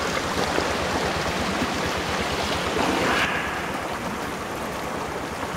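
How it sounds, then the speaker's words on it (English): Flood runoff stream rushing under a tree in mountains after rainstorms in a burned area, a steady, loud broadband wash of flowing water close by, continuous with no voices. "it's probably the water's flowing just under this tree."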